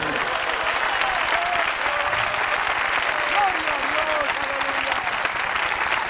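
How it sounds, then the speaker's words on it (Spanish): Loud, sustained applause from a large congregation fills a 1991 evangelistic church service in Zulia, Venezuela, a dense continuous clapping that never lets up. "Un aplauso al que vive para siempre."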